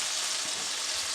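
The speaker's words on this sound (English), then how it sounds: "As you can hear, the fat is sizzling, which means it's warm enough." Fat sizzling in a hot pan, a dense, steady hiss of frying heard close up that runs without a break, with no talking.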